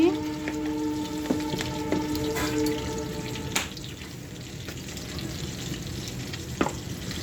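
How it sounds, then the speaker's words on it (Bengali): Bay leaves and oil start to sizzle in a home kitchen pan as pulao is begun, giving a steady frying hiss with a few light utensil clinks and faint background voices. "তেজপাতা দিয়ে দিচ্ছি, তেল দিয়ে দিচ্ছি।"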